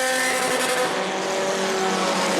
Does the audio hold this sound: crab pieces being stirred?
no